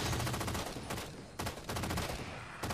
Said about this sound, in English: Let's try the light machine gun.